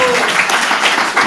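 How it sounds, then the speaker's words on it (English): Brief burst of audience applause at a devotional class, a dense clapping wash lasting about a second, fairly loud and close. "Give him a round of applause."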